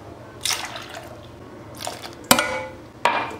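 Water being poured into a pot for a chocolate sauce, heard as several short splashing, trickling bursts with brief gaps between them, close by and fairly quiet, ending with a sharp clink.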